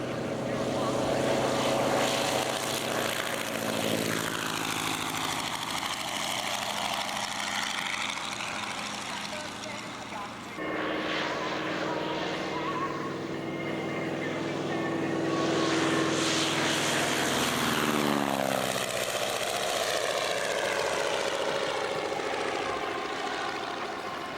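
A big propeller airplane engine at an aerodrome warms up and throttles into takeoff, a loud droning roar with rising and falling pitch sweeps as it passes, while someone talks over it.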